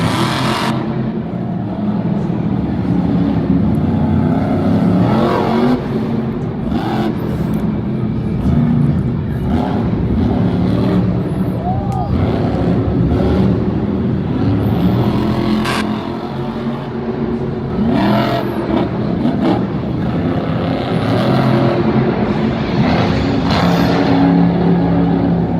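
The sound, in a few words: Monster Jam monster truck engines revving during freestyle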